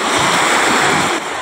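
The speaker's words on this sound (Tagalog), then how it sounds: "Ang lakas ng alon." Strong sea waves surging and crashing at a beach, a loud continuous wash of surf filling the air close by, easing slightly at the end.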